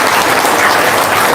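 Dense, loud audience applause fills a room at a talk, a steady burst of clapping with no voices heard over it.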